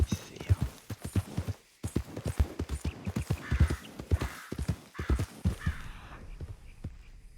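Horse hooves clip-clop at a steady walking rhythm in Red Dead Redemption 2, with a forest setting around. People talk over much of it, and the hoofbeats stay mid-level and partly masked.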